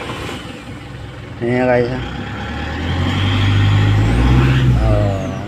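A low-power Fuso truck engine cranks, catches and settles into a low, rumbling idle, loud and close, while someone talks over it.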